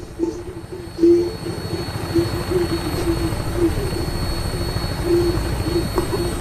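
Aircraft on final approach to an airport in the Fallout 4 game, a steady engine drone with a whining hum, sustained and fairly loud throughout with no talk.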